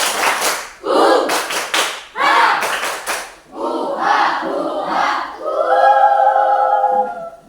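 A classroom of pupils performs a group rhythmic clap chant, tepuk rimba. Loud, close bursts of unison clapping mix with shouted chanting voices and end in a sustained drawn-out call.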